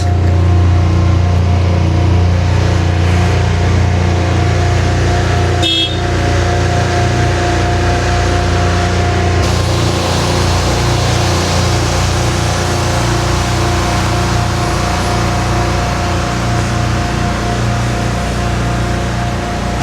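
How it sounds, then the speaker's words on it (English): The pump of a crack sealing machine runs turned down low, a loud steady mechanical drone with a constant hum throughout, briefly interrupted by a short knock partway. "we have the pump turned down a little bit, just so we don't put out too much material in the overband"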